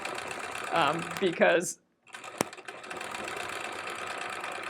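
A sewing machine stitches free-motion quilting on a pineapple quilt-as-you-go block, a steady mid-level mechanical whir running under a voice, cutting out briefly before it resumes.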